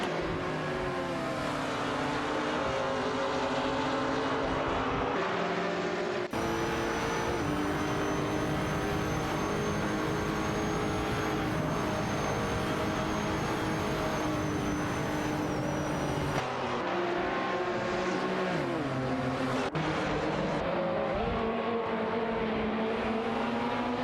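Race cars in a racing video game, an Aston Martin Vantage GT4 and a Lotus Evora GT4, roaring continuously with engine pitch rising and falling through gear changes and abrupt cuts between cars.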